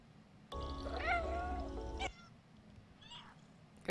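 A cat meows in the video game Stray, one drawn-out, wavering meow standing out loud and clear over a low steady hum, followed by a fainter short mew.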